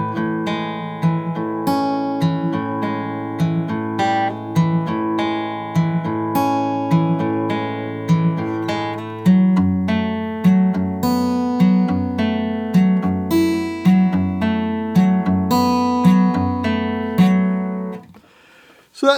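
Guitar plays the picked line from a song, a steady repeating pattern of plucked notes that rings clearly and alone, closely miked, before stopping abruptly near the end.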